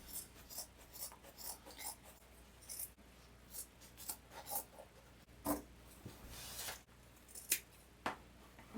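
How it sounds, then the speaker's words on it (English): Scissors snip through the inside seam of denim skinny jeans in repeated short, crisp cuts, close up and fairly quiet, with brief pauses between bursts. "I'm going to cut this inside seam."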